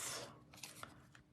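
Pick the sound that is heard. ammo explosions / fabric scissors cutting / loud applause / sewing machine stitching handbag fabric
fabric scissors cutting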